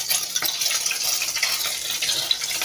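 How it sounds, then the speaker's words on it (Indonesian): Food frying in hot oil in a pan for a bakmie dish, a steady bright sizzle with scattered pops and crackles close by, no talking. "Minyaknya sudah panas, jadi aku gorengnya seperti ini teman-teman."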